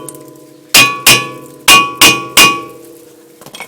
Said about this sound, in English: Give it another little whack